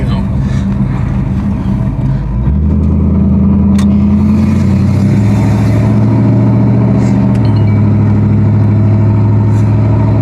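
A 1955 Oldsmobile with a swapped 4L60E automatic transmission driving along, its engine droning steadily and stepping through several smooth gear changes, heard from inside the car.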